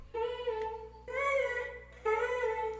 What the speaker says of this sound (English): this is what the vocal chop sounded like